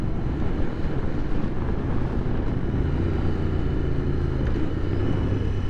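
A Royal Enfield Interceptor 650 twin grumbles low and steadily while being ridden, partly buried under constant buffeting wind noise.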